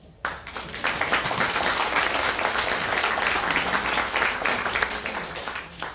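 Audience applause at an anniversary gathering of a self-help support group in Sežana, Slovenia: sustained, dense clapping from a sizeable crowd that starts abruptly and holds steady for several seconds before easing slightly.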